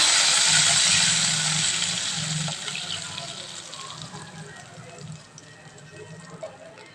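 Water is poured into a hot pan of crackling mustard seeds for a semolina breakfast dish, making a loud gushing sizzle at first that slowly fades to a quieter bubbling hiss.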